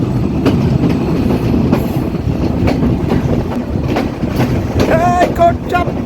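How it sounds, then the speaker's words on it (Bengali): The Sundarban Express 726, a down train running from Dhaka toward Khulna, rumbling loudly along the tracks with rhythmic clattering and wind buffeting, and a tonal whine or horn rising near the end. "ঢাকা থেকে ছেড়ে আসা খুলনা অভিমুখী সাতশো ছাব্বিশ নং ডাউন ট্রেনটি"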